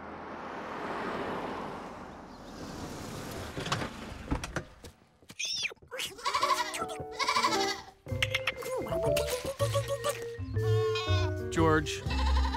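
Cartoon goats bleat repeatedly and loudly up close, their wavering cries following a stretch of noisy rustling.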